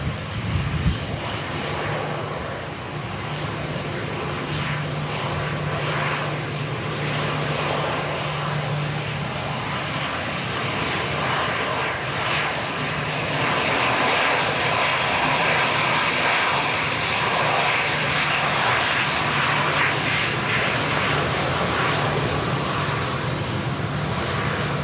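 An airliner at Manchester Airport roars on a windy day, a broad continuous jet rumble and rush that swells slightly mid-clip, mixed with gusty wind buffeting the microphone.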